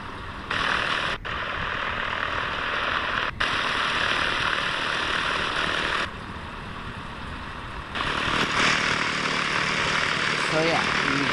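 Airplane taxiing toward a ramp in the flight simulator X-Plane 11, a loud steady engine drone that shifts level a few times, with no voices.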